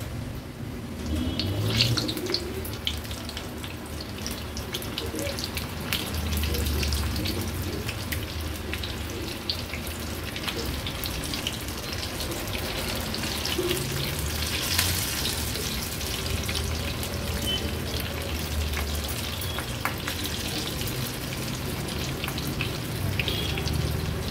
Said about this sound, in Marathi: आता लगेचच तेलामध्ये ही भजी सोडूया।